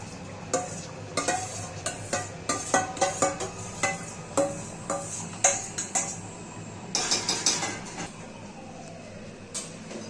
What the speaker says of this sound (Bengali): এবার একটু ঝোল তুলে নেব এর মধ্যে, একটু ভালো করে দিয়ে এর মধ্যে দিয়ে দেব